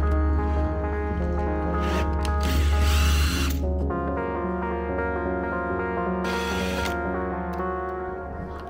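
A power drill whirs steadily for several seconds, with two bursts of harsher grinding as the bit bites into material.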